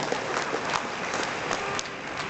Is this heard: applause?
yes